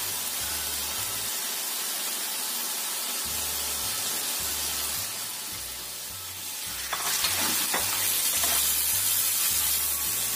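Chicken sizzles steadily in a hot pan of sautéed aromatics while being stirred, a dense frying hiss that grows louder and brighter partway through, with no talking.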